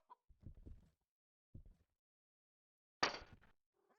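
A chicken in the Demonologist video game clucks in short, quiet bursts separated by pauses, ending with a louder, brighter squawk.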